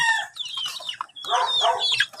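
Chickens cluck and chatter close by in short, bright bursts, a busy overlapping flurry of calls with no talking.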